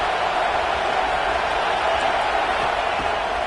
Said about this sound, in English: The Tide crowd roaring noise down onto Saban Field on 3rd down